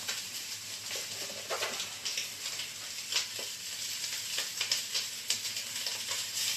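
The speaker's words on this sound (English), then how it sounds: "I don't know if you can hear it. It sizzles nice." Steady, crackling sizzle of pork frying in a hot pan, with small pops and spatters throughout.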